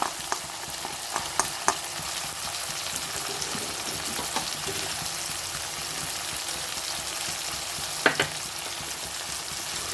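Tomatoes frying in a pan for brinjal kuzhambu give a steady, soft sizzle throughout, with a few light clicks of stirring scattered over it and no talking.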